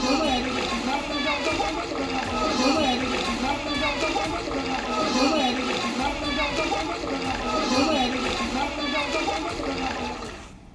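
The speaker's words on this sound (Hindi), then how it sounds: "बारां जिले में भारी बारिश के बाद पानी पुल के ऊपर से बहने लगा" Floodwater pours over a bridge in Baran district after heavy monsoon rain, a loud, constant rushing and sloshing that fills the whole stretch, with a voice talking over it.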